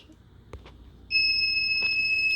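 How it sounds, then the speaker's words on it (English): The timer on a heat press used for pressing a 20 oz tumbler goes off as a steady, high electronic beeping tone. It starts partway through after a few soft clicks and keeps sounding loud and unbroken to the end. "So the timer has gone off."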